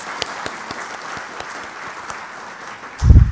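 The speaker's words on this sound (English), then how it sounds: "I want everybody to again give all of our students a round of applause." Scattered hand claps ring out from an audience at a historical society annual meeting as the students are applauded. The claps are sparse and fairly even, and a low thump sounds near the end.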